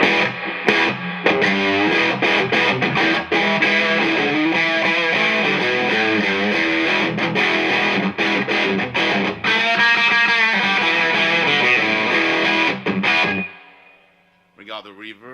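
Engl Thunder 50 guitar amp on its crunch channel, loud and continuous distorted chords and riffs ringing almost the whole time, then cutting off near the end to quiet hum with a brief final strum.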